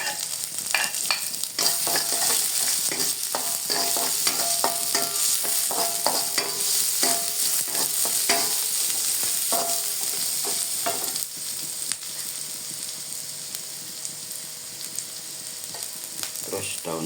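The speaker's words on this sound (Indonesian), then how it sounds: "bawang putihnya digoreng, terus bawang merah" Garlic and shallots fry for sambal with a steady, loud sizzle, broken by frequent scraping stirs of a spatula against the pan, close and continuous without talk.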